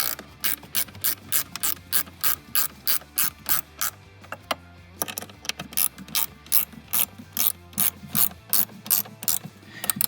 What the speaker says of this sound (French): On resserre nos deux écrous.